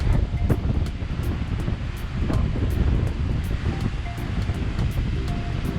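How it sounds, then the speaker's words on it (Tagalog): Rough sea surf churns and crashes continuously at a campsite in Fukui Prefecture, Japan, mixed with gusty wind buffeting the microphone, loud and close with no break. "Yan, maalo ng dagat."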